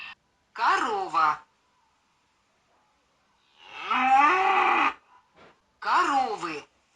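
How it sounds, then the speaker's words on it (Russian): A cow moos three times, close and loud, with a long drawn-out call in the middle between two shorter ones and silence in between. "Корова."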